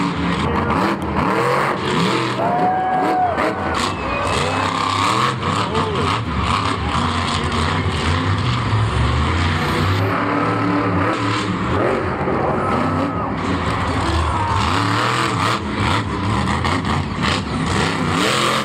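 The El Toro Loco monster truck's engine roars and revs continuously at Monster Jam in Orlando, a loud, dense motor sound lasting throughout with crowd noise and voices mixed in.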